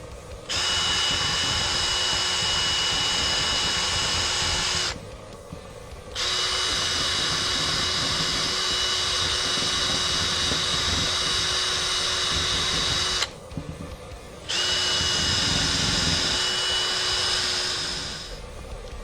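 A power drill spins a brass wire brush against a dirt bike brake caliper, a loud steady whine with grinding scrub that stops twice briefly and starts again, then tapers off at the end.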